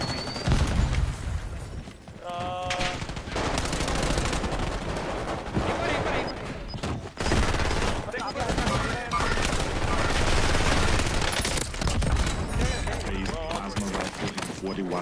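Rapid gunfire from a Call of Duty match rattles almost without pause, bursts and volleys loud and close throughout, with players' voices talking over the shooting.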